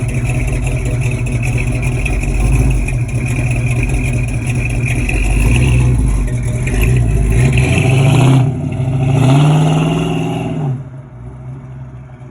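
A loud 1970 Buick GS 455 engine runs and revs steadily, then rises in pitch before dropping back near the end, with a gear change audible.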